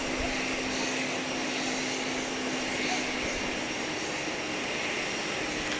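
A large airplane at Grand Cayman airport gives off a steady, broad engine roar with a constant hum, unchanging and moderately loud throughout.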